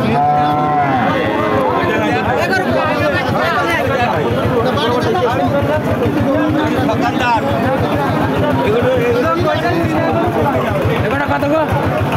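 Cattle low and call amid a busy market crowd at Chaugachha cattle market in Jessore, with steady chatter and bargaining voices throughout, a dairy cow nearby.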